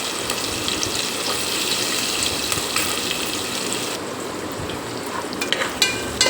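Shallots and green chilies fry in oil inside a pressure cooker, a loud, continuous close sizzle with occasional scraping stirs throughout.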